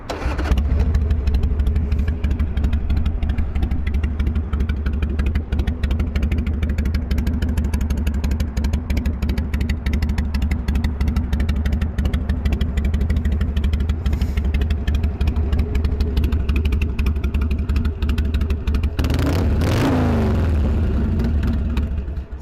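Harley Davidson Sportster 883 Custom (XL883C) with upgraded pipes and a trike kit, idling with a loud, steady, close low-pitched rumble, then a brief throttle blip near the end.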